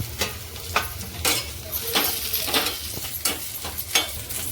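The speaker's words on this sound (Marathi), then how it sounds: "ते सुद्धा याच्यात छान भाजून घेऊया तेलावर याच्यातच टाकूया लसूण अद्रक आणि दोन हिरव्या मिरच्या" Garlic, ginger and two green chillies fry in oil alongside dry coconut for a puran poli thali masala, a steady close sizzle broken by repeated scraping stirs of a spatula in the pan.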